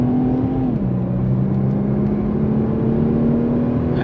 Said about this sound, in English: I'll give it a little gas.